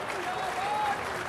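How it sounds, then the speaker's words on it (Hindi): A crowd at a political rally for party workers in Rewa claps in a brief, even burst while a voice speaks over it. "13 में आपने ताली बजा दी"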